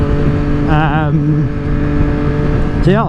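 A Triumph Street Triple 765R fitted with an AliExpress SC Project exhaust, dB killer in, idles with a loud, steady three-cylinder drone, briefly rising in revs as someone speaks over it.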